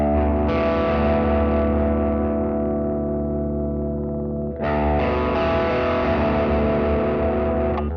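Electric guitar runs through an Axe FX III drive block into a lightly distorting amp, sustaining a thick, fuzzy chord that slowly fades, then a fresh chord is struck and rings on, loud and alone.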